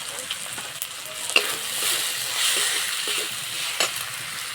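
Tomato and ground spices (chilli, cumin, coriander and turmeric powder with a little sugar) sautéing in a pan, a steady close sizzle with occasional sharp scrapes and clicks of stirring, no voices.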